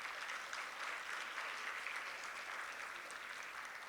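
Steady applause for female high school athletes of the year standing as honorees at an awards event, a dense even patter of clapping from a crowd that holds at the same level without a break.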